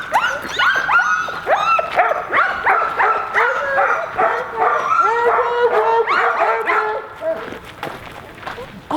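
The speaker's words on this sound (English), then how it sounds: "All the dogs were barking." A pack of sled dogs at an Iditarod champion's kennel barks, yips and whimpers excitedly before a ride, many loud overlapping voices close by in a continuous chorus.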